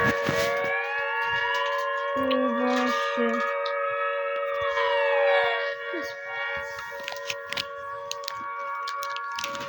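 The siren of the Siren Head monster in a video game wails with slowly rising and falling tones, droning steadily throughout, mixed with scattered clicks and faint background sounds.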